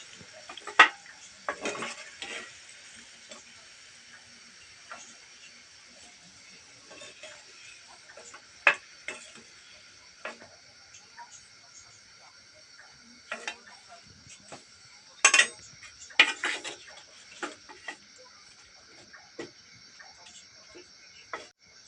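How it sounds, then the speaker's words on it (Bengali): Metal utensil clinks and scrapes against a pan as freshly fried sweet potato gokul pitha are lifted into sugar syrup, with scattered sharp taps and a few louder clatters over a steady faint hiss, no talking. "আমি চিনি শিরাতে তুলে দিয়ে দিচ্ছি"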